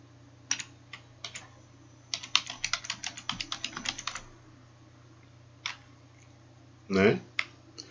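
Someone types an e-mail address on a computer keyboard, a quick run of soft, close key clicks with a few scattered taps before and after, ending in a louder keypress, over steady low hum.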